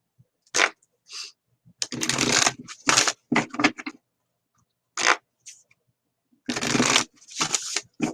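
Tarot cards are shuffled and handled in bursts, several crisp riffling rustles separated by short pauses, close and clear with no talking.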